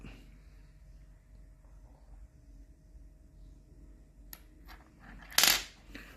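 A Buddha amulet tips over under a magnet's pull, giving a single sharp metallic click near the end after a long quiet stretch.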